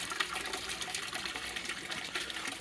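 Water splashes and gushes steadily from a water feature in the middle of a garden pond, a continuous bright rushing sound heard close up with no talk.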